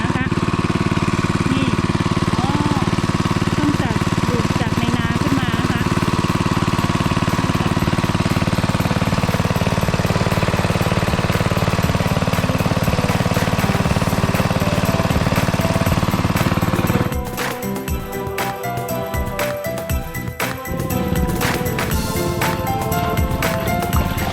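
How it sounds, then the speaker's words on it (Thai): An engine-driven water pump drones steadily and loudly beside a rice field, a constant mechanical rumble that abruptly changes character near the end into a rougher, more rattling running sound. "ใช้เครื่องอะไรดูดน้ำก็เครื่องจักร"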